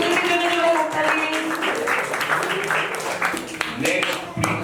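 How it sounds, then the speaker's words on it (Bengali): Loud applause and clapping from an audience at an ashram clothing-distribution event, honouring a young student, with voices talking over the clapping throughout. "ধ্রুবজ্যোতির জন্য জোরে হাততালি"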